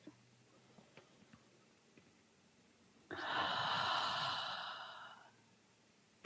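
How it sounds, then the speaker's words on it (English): A slow, deep breath drawn in during a guided meditation, a single steady airy inhale of about two seconds that swells and then fades, heard alone after near silence. "I bring that breath right in. I breathe in."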